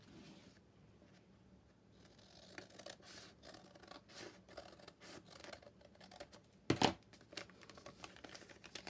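Scissors trim a paper mailer used as a soft journal cover: quiet, close, irregular snips and paper rustles, ending in one louder, sharp crinkling cut near the end.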